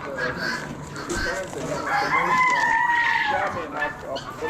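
Red hens and other poultry at a bird auction cluck and squawk in a loud, overlapping chorus, with a drawn-out crow-like call in the middle and a busy crowd murmur behind.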